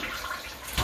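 Dirty water from a Rainbow SRX vacuum's water basin is poured into a toilet: a brief close rushing splash that builds at the end, alone.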